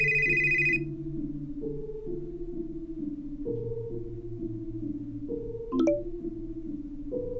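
A phone rings with a call from a private number, a repeating electronic ringtone melody cycling steadily and moderately loud after a brief high beep at the start, with one sharp click partway through.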